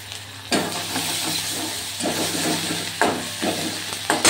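Onion, chopped onion and ground dried chilli drop into hot oil, giving several loud bursts of sizzling and hissing, each surge fading back to a steady crackle, with no talk.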